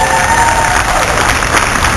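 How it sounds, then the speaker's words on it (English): Loud, dense applause and cheering from an outdoor crowd at a 2010 Tea Party rally in Gainesville, Florida, a continuous roar of clapping with shouts mixed in. "Give yourselves a round of applause."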